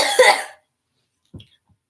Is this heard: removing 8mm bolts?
no